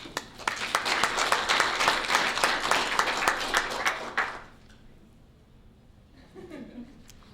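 Audience applause at a school board meeting, a dense burst of many clapping hands that fades out after about four seconds, followed by quiet room tone and a faint voice.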